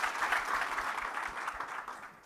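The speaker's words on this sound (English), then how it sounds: "let's give a big round of applause for keeping this conversation open." Applause fills a hall at a security forum in Aspen, a steady, even roar of many clapping hands that holds at moderate loudness throughout with no speech over it.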